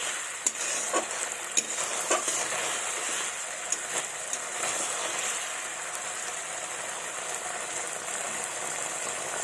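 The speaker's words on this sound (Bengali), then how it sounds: "মশলাটাকে ভালোভাবে একটু কষিয়ে নেব, যাতে কাঁচা গন্ধটা চলে যায় আর তেলটাও ছেড়ে দেয়।" A spice masala is stir-fried in oil for a vegetarian drumstick and pumpkin dish, producing a continuous soft sizzle with scattered sharp scrapes and taps of stirring, mostly early on.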